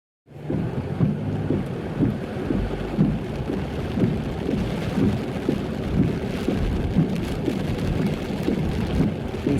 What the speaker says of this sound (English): A lot of water coming down the side gutters.